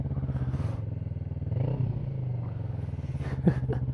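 Motorcycle engine idling steadily with a pillion rider seated on board, a continuous close low rumble with a slight rise in revs midway and a small clatter near the end.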